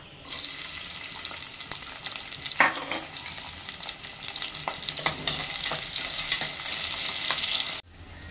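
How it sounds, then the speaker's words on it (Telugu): Onions and green chilies frying in hot oil in a pan for a spicy mutton curry, an even close crackling sizzle punctuated by a few sharp spatula scrapes, no talking. "నూనె పోసుకొని ఉల్లిగడ్డ పచ్చిమిరపకాయలు వేసేసుకోవాలి"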